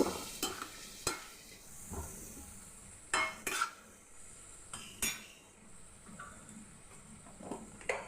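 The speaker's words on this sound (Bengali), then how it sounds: "আলুর টুকরোগুলো দিয়ে মশলার সঙ্গে আবারও কিছুক্ষণ খুব ভালো করে কষিয়ে নেব" Fried potato pieces being sautéed with spices in a pan for a Bengali vegetarian chhana kofta curry: a spoon scrapes and knocks against the pan in irregular clatters over a soft sizzle, close and without speech.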